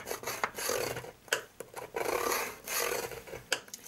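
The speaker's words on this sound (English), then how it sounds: "this acetate being really, really thick, you need to really score it well" Thick acetate sheet being scored along ruled score lines, heard as short, scraping strokes in irregular bursts, close and fairly quiet.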